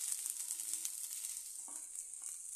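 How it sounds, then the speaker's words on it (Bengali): Garlic, onion and green chilies frying in hot mustard oil make a soft, bright, even sizzle with a faint stir or two, close but quiet and with no voices. "এবার তেলের মধ্যে আমি রসুন, পেঁয়াজ আর কাঁচামরিচ দিয়ে দিলাম।"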